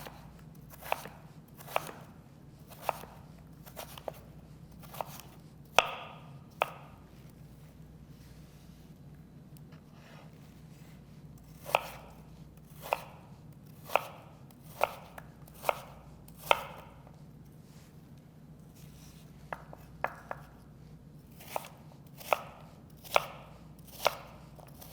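A knife cuts an apple into strips and dice for apple and avocado salsa, producing crisp, evenly spaced chops on a board, quiet and close, with bursts of rapid cuts separated by short pauses.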